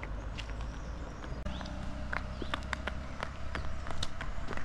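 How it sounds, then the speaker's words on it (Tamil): Horse walking on the road to Kodaikanal, hooves clip-clopping in an uneven, steady gait, faint and somewhat distant over low outdoor background noise. "கொடைக்கானல் போற வழியில ஒரு கோவரி கழுத மாதிரி ஒரு குதிரை வரும்"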